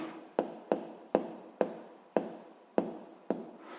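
Pen strokes on paper while jotting down physics notes, seven short scratchy strokes in a steady rhythm, close and quiet.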